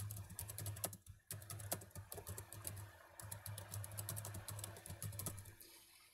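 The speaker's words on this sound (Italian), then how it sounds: "Scusate se sentite la tastiera." Rapid, steady keystrokes on a computer keyboard clatter continuously at close range, with a brief pause near the start and a low hum underneath.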